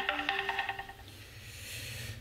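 A phone rings in quick repeated electronic tones for about a second, then stops, leaving a low background hum.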